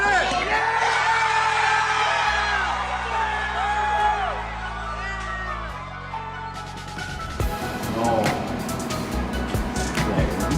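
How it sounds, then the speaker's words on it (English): Several people, led by a karate instructor, whoop and yell encouragement at a young karate student in a martial arts setting, with loud cheering that swells and shifts over several seconds, mixed with shouts and chatter. "take a second to listen to the way Sensei and the others cheer."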